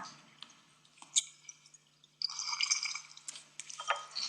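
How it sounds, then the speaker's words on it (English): Freshly squeezed lemon juice for a vegan Mediterranean dressing drips and squishes faintly in a quiet kitchen, with soft scattered drops followed by a denser trickling patch. "We want to add about 2 tablespoons of freshly squeezed lemon juice."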